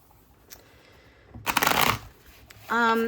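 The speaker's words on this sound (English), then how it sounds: "I'm going to pick these cards up" A deck of tarot cards is gathered up and shuffled close by: a soft tap, then a brisk riffle lasting about half a second, followed by a voice starting to speak.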